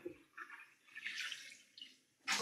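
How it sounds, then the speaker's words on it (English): Soaked leafy greens are lifted out of a bowl of water and vinegar and squeezed, giving faint close-up trickles and splashes of draining water, followed by a sharper splash at the end as they go into a clean bowl of water. "lift them from the bowl with the water and vinegar that they've been in and kind of squeeze out some of that water"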